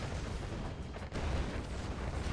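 Cannons destroyed during a Command & Conquer-style real-time strategy match, heard as a dense, continuous rumble of booming explosions and artillery fire.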